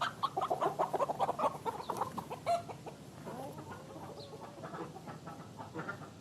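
A chicken clucks in rapid, busy bursts close by, then its calls thin into softer, scattered clucks and a drawn-out squawk toward the end.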